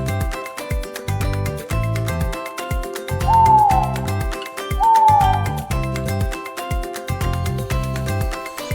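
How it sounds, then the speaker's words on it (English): An owl gives two short, clear hoots about a second and a half apart, fairly soft beneath steady, playful background music. "That's right, an owl."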